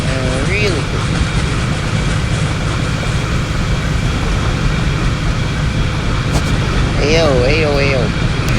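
A train rumbles steadily with a low continuous drone and clatter while a voice hums or vocalizes melodic tones over it at the start and again near the end.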